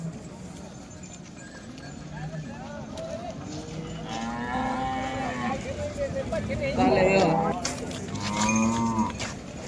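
A cow and her heifer calf low loudly at a busy cattle market in Modnimb, with repeated moos over hoof clops and a steady buzz of people talking.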